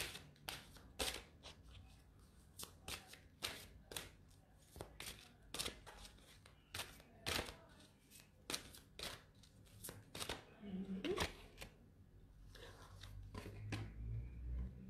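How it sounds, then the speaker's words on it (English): A deck of cards being shuffled in a series of sharp, crisp riffles and snaps, repeated at an irregular rhythm close by in a quiet room, with faint murmuring at the end. "And do I need to shuffle or not?"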